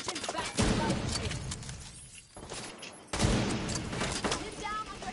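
Enemy gunfire in the shooter game Division 2, a dense burst of rapid shots that fades briefly into a quieter lull, then another loud volley erupts and continues steadily to the end.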